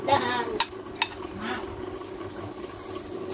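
Pans and utensils clatter while homemade fried rice cooks, with a few sharp metallic clinks and scrapes over a steady sizzling, clattery background and faint voices nearby.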